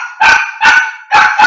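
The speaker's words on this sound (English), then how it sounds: "sorry, dog yelling." A dog barks loudly and close by, three or four sharp excited barks in quick succession, in a home as someone arrives.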